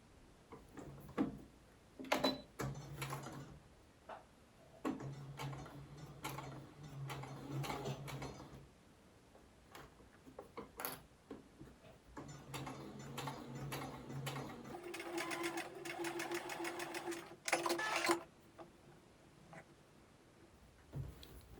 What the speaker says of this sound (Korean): 그리고 노루발 간격으로 쭉 재봉해 줄게요.